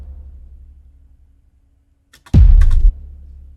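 Synthesized bomb explosion impact layer with reverb: a short, loud, heavy low thud bursting in after near silence, with a brief crackling top, then cutting off under a faint low rumble.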